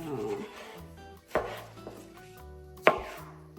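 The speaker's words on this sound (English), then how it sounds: "we're cutting our tomatoes and onions" Knife chopping tomatoes and onions on a cutting board while preparing turnip greens, with two sharp, distinct blade strikes standing out among softer cutting sounds, fairly close.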